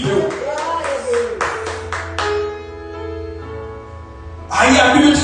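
A congregation at a Sunday morning communion service claps in a brief burst, then sustained keyboard tones ring on before another loud swell of clapping rises at the end.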